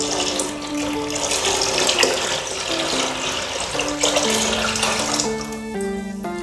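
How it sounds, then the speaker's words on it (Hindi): Leftover buttermilk pours from a vessel into a bucket in a village dairy, a continuous splashing stream alone without talk, with a tonal music-like layer running underneath. "जो बची हुई छाछ है यह पशुओं के लिए निकाली जा रही है"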